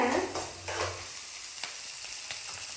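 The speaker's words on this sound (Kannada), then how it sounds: "ಹಸಿಮೆಣಸಿನ್ಕಾಯಿ ಹಾಕಿದ್ವಿ. ಸ್ವಲ್ಪ ಫ್ರೈ ಆಗಬೇಕಿದು" Green chillies frying in a pan in a village kitchen: a dense, steady close sizzle with a few soft scrapes of stirring, loudest at the start and then settling into an even hiss, no talking.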